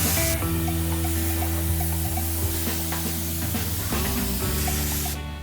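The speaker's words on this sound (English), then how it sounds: "When you spray this product, make sure you wear a mask in a nice ventilated area." Rust protection coating sprayed from a can onto a truck frame, a loud, continuous close hiss over a steady mechanical hum from the shop.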